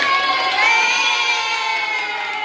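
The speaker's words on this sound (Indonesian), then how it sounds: "Boleh kasih tepuk tangan untuk Elsa?" A classroom group of students cheers and shouts for a classmate during a school cultural diversity simulation, a loud, continuous crowd roar with high whoops and no clear clapping.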